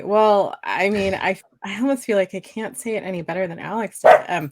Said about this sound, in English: that's my dog. My dog wanted to chime in.